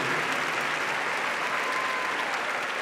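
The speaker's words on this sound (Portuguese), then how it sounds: "Pode aplaudir mais forte." A church congregation claps steadily and loudly, a dense even wall of applause that carries on without a break from start to finish.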